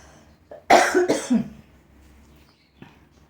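A close burst of two or three harsh coughs in quick succession, followed by quiet and a faint short sound near the end.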